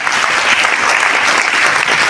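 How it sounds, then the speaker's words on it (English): Sustained, dense audience applause welcoming a guest lecturer, an environmental lawyer, at a public lecture, steady and loud throughout without a break. "please, with a loud applause"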